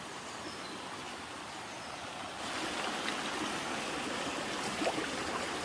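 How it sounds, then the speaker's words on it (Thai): A mountain stream, the first one crossed on the trail to Tad Mei waterfall near Khun Tan, rushing as a steady broadband wash that grows a little louder partway through, with no voices. "ตรงนี้ลำธารแรก ต้องผ่านลำธารสองลำธาร อันนี้ถึงลำธารแรกแล้วนะคะ"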